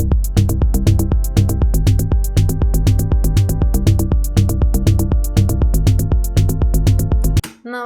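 A dense, steady beat pairs a syncopated bass line with rhythmic chord stabs in a repeating groove, loud and continuous until it cuts off just before the end.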